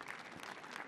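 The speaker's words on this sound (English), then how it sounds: "Let's give a hand of applause for the young people that you're watching" An audience applauds young performers from a Ugandan youth foundation at a Millennium Stage show. The brief burst of clapping is dense and steady.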